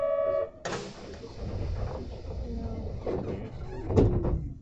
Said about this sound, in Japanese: 扉を閉めます。